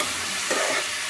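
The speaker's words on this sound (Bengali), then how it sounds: "ডালিয়াটা দিয়ে দিলাম, ডালিয়াটা দিয়ে ভালো করে নেড়ে নিই" Dalia is stirred in a frying pan on the stove. A brief, steady close sizzle with a soft scrape partway through, no voices.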